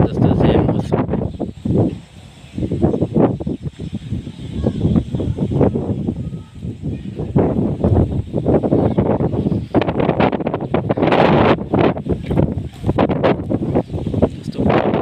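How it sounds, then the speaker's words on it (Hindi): Gusty wind blows under heavy clouds just before rain, surging and dropping in loud rushing bursts that buffet the microphone, with possible faint talking underneath. "इस वक्त हवा भी चल रहा है।"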